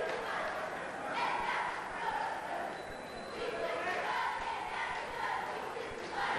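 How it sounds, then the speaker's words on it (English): Cheerleaders chanting and cheering in the stands at a 1990 high school wrestling match between Tonawanda and Niagara Wheatfield, a dense, distant crowd roar that swells and dips over a few seconds under an announcer's voice. "And the Tonawanda cheerleaders still cheering in the background."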